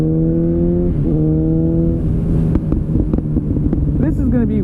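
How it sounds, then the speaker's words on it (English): Motorcycle fitted with an SC Project exhaust, a loud close engine drone with a series of sharp popping backfires crackling through it toward the end, under wind noise. "as you can hear the thing backfiring underneath me"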